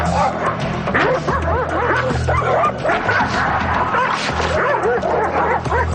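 A dog barks and yips excitedly over and over, close and loud, with some whimpering mixed in; a reactive dog that lunges at other dogs and movement.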